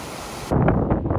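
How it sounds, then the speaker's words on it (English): A rushing mountain river at a hiking-trail crossing on the Tour du Mont Blanc gives off a steady, close broadband roar that swells louder about halfway through. "Yet another river crossing."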